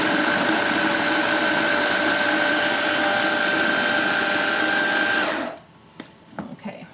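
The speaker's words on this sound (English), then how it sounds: "So we're going to puree that" A food processor whirs steadily and loudly for about five seconds as it purees chickpeas for hummus, then cuts off, leaving a few light clicks and knocks.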